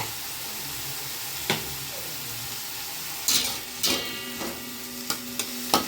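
Chapati upma with a pinch of turmeric fries in a pan, a soft continuous sizzle under a handful of distinct spatula knocks and scrapes that grow more frequent toward the end.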